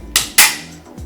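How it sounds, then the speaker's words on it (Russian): Two sharp, loud shots from a Benelli M4 semi-automatic shotgun in quick succession, the second about a quarter second after the first, each ringing out briefly before fading into quiet. "И сейчас я попытаюсь сделать выстрел достаточно быстро."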